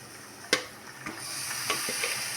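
Raw chicken goes into fried masala in a pan for chicken biryani, with a few soft thuds and clatters as pieces drop in, followed by a rising, steady sizzle and hiss.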